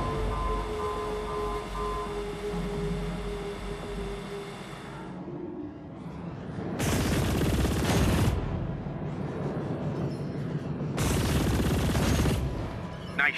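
Gunfire in the sci-fi game CHORUS on the Artok wreck as automated security engages: two loud sustained bursts of rapid fire separated by a short pause, with no speech.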